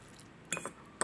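Utensils stir a plate of pancit palabok with a few light, quiet clinks and scrapes, two small clusters, then a single sharp tap near the end, all without talk.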